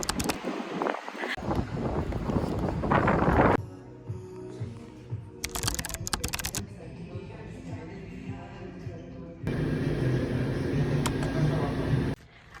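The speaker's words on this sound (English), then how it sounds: "It's a very windy day." Gusty wind roars and buffets the microphone in loud waves, dropping briefly between stronger blasts.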